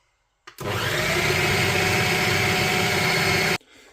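An electric mixer beats rhubarb pie mixture in a steady, loud whir that starts abruptly, holds for about three seconds, and cuts off sharply, with no talking over it.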